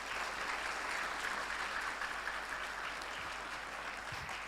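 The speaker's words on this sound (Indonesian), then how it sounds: "tepuk tangan meriah untuk tim Tempo" Steady, lively applause from an audience at an on-stage talk event, honouring the Tempo team, even and sustained throughout with no voices on top.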